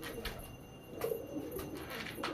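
A female pigeon coos softly in a low, muffled rhythm against a quiet background hiss, with faint knocks and rustles nearby.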